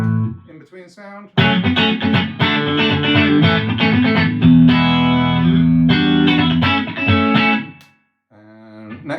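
Electric guitar, a Harley Benton Fusion-3 HSS in the in-between pickup position, plays a distorted passage of chords and picked notes, loud and sustained, with a brief gap before quieter notes resume at the end.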